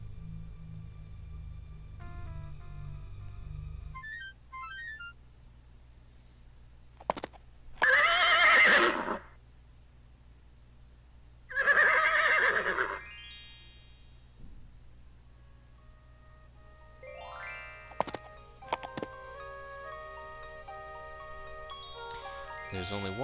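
A horse neighs twice in the King's Quest VII adventure game, each whinny loud and distinct against a quiet musical background, with brief game sound effects before and after.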